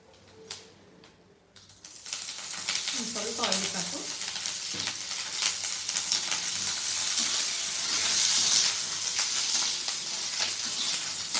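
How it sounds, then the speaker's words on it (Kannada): Green chillies frying in a little oil, starting quiet before a sizzle rises and settles into a steady crackling fry with occasional light stirring clicks. "ಇದನ್ನು ಫ್ರೈ ಮಾಡಬೇಕು ಇವಾಗ ಫ್ರೈ ಮಾಡಬೇಕಾದ್ರೆ ಒಂದು ಸ್ವಲ್ಪ ಆಯಿಲ್ ಹಾಕಬೇಕು"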